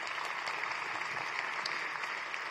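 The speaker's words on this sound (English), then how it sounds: "They deserve a round of applause for that." Applause from the audience at a city March Madness event, a soft, distant, continuous patter of many hands with no voices over it.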